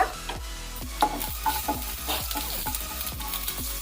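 Chopped onion frying in hot oil with panch phoron, a steady close sizzle broken by repeated scraping stirs of a spoon against the pan, no voices.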